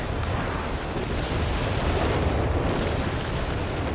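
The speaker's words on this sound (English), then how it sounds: "Maybe getting hit with some walking Stuka counter barrages that are low." Continuous roar of walking Stuka counter-barrage artillery in Company of Heroes 3, a dense, loud rumble of overlapping explosions and blasts with no clear pauses.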